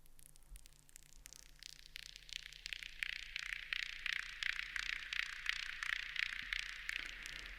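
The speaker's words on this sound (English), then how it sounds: "Again, this is a very crackling texture" A crackling synthesized FX texture for deep hypnotic techno, shaped by modulation with a touch of reverb: dense bursts of crackle and hiss that grow busier and brighter, played alone without speech.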